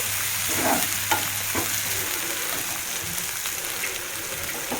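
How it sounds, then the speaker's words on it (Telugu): Paneer curry masala frying in a pan, dhaba style, giving a dense continuous sizzle with stirring scrapes and a brief low hum early on, close and steady throughout. "మీరు కూడా చూడొచ్చు ఎంత క్లీన్ ఫ్రై చేసుకుంటున్నామో"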